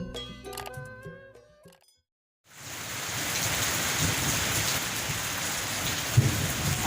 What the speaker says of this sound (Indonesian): menikmati suasana hujan